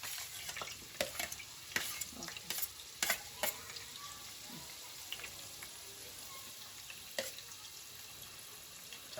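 Onions frying in a pan for mutton curry, a quiet steady sizzle broken by sharp scraping stirs and clinks, with faint talk in the background.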